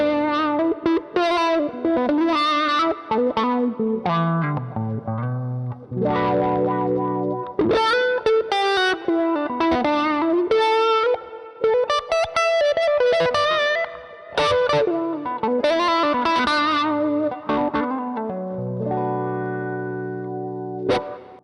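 A Fender Stratocaster run through a custom-built wah pedal fitted with an inductor plays a continuous, expressive distorted riff with sweeping, vocal-like tonal shifts throughout, loud and close with no talking.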